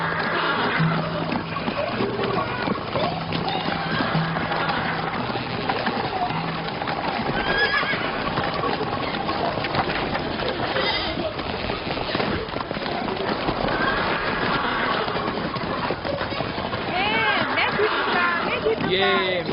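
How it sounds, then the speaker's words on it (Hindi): A horse whinnies and gallops with steady clip-clopping hooves in a dramatized historical story scene, loud and continuous, mixed with other dramatic sound and occasional bangs. "मेरा घोड़ा ले जाओ।"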